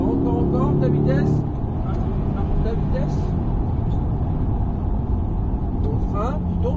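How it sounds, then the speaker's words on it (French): A Corvette C8 pulls hard around a race circuit, its engine a steady loud drone with rising tones. An instructor talks continuously over the car noise throughout. "Et on accélère de plus en plus fort."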